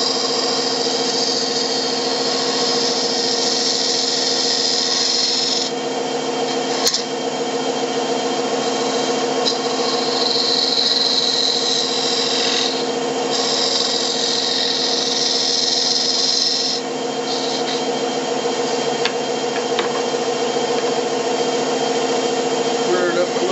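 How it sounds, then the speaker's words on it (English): A small spindle gouge cuts a toothpick holder on a wood lathe, giving a steady, loud, continuous whirring hiss with a few faint clicks throughout. "spindle gouge."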